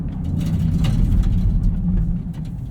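A 2023 Chevrolet Camaro SS 1LE with a manual gearbox drives slowly through a turnaround, its engine giving a low steady rumble with road noise, heard from inside the cabin with no talk.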